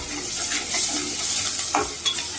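Onions with ginger garlic paste frying in a pan for a prawn curry, a brisk sizzle with quick scraping stir strokes and a light clink of a utensil against the pan, close and loud.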